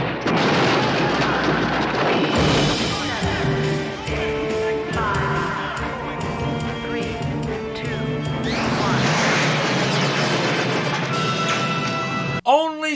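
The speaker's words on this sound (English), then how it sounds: "Reactor will now explode in 15 seconds." A reactor explosion effect from an episode of The Flash TV series: loud, sustained rumbling blasts and crashes with tonal music and voices over about thirteen seconds, ending in an abrupt burst.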